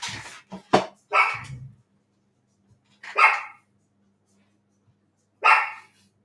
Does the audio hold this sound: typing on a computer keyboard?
no